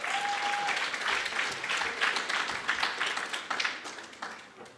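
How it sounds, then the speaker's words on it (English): An audience applauds at a university public health division launch, steady dense clapping that holds for about five seconds and slowly thins toward the end. "Can we give her one round of applause?"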